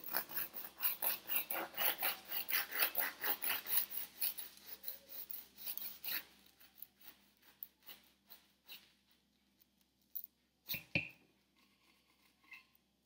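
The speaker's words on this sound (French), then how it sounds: "Il ne me reste donc plus qu'à couper mes millefeuilles." Knife slicing through strawberry millefeuille pastries, a close, rhythmic run of crisp rasping cuts through flaky layers, then scattered softer scrapes and taps before it falls quiet.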